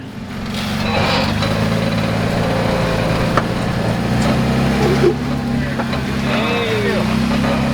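Jeep Wrangler on 40-inch tires with heavy-duty front IFS suspension and Marlin Crawler body armor, crawling the Moab Rim Trail; a low, steady engine rumble runs throughout beneath someone talking.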